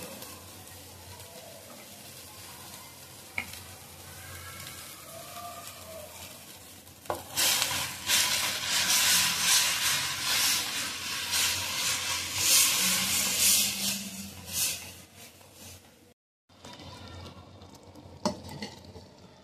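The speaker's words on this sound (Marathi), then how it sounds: "छान पिठलं शिजत आलं आणि उकळी आलेली आहे" Thick gram flour pithla simmers and is stirred in a pan: quiet scraping at first, then a louder stretch of bubbling, spluttering and stirring, followed by a brief silence and softer bubbling.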